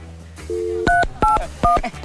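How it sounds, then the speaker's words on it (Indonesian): A telephone keypad sends out a short series of dial tones, one longer tone followed by three quick beeping presses in an even rhythm, loud and close with no voices. "Kayak aku dengar suara telepon."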